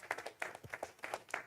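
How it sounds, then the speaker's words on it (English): Light applause from a small group, scattered claps with a loose rhythm, quiet and somewhat distant. "another round of applause"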